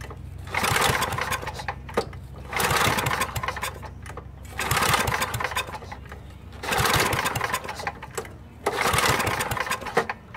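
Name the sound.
Onan 4KW generator engine starting with choke on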